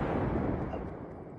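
A loud, dense burst of gunfire in the video game Fortnite, heard as one sustained booming roar that fades slightly over its short length, with no talk.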